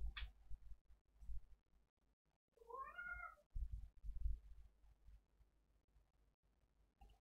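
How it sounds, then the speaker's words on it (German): Domestic cat meowing in the background, one drawn-out, wavering meow in the middle of the clip, fairly faint against quiet room sounds and soft bumps. "das ist unsere Katze, die wieder mal das Maul ziemlich weit aufreißt."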